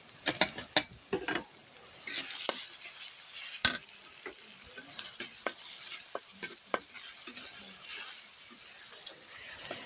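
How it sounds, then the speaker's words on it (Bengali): Taro stolons (kochur loti) frying in a pan with chopped garlic: soft steady sizzling under frequent irregular clicks and scrapes from a spatula, close but fairly quiet, with no clear speech. "দেখেন কিভাবে আমি কচুর লতি ভাজি করতেছি"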